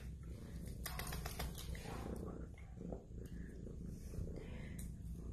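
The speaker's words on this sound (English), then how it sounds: "and a great big purr." A young neutered black shorthair cat purrs steadily and softly at close range, a low continuous rumble lasting the whole stretch with slight rhythmic pulsing.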